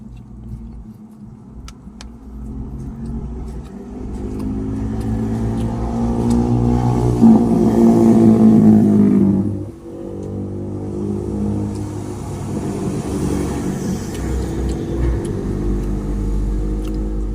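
Steady roadside traffic beside a road in Sipocot, Camarines Sur, with a vehicle's engine rumble swelling loudly as it passes close, then dropping away before more cars keep the road noise going.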